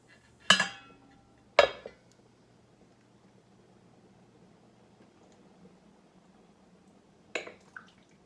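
A lid goes onto a pot of simmering vegetable soup: two sharp metallic clanks close together, a stretch of soft kitchen noise, then another clank and a light rattle near the end.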